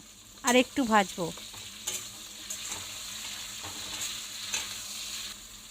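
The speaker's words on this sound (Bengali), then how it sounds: "আমি এর মধ্যে এবার এই কাটা বটবটিগুলো দিয়ে দেবো। দিয়ে আরেকটু আমি ভাজবো।" Chopped flat beans fry in a pan for a vegetable khichuri, giving a soft, steady sizzle with stirring scrapes and a brief vocal sound near the start.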